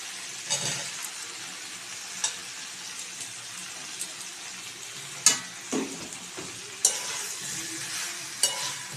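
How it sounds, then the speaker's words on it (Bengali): Potatoes stir-fried with mutton in a pan for a Bengali mutton kosha, a steady moderate sizzle punctuated by several sharp spatula scrapes and clinks against the pan. "আলুটা দিয়ে ভালোভাবে কষিয়ে নেব।"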